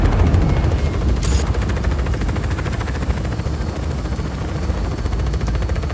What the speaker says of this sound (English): Where are the choppers at? I hear them.